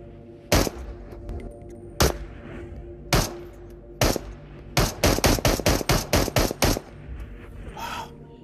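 Loud video game gunfire: a few widely spaced single shots, then a rapid burst of about ten close shots, with no talking over them.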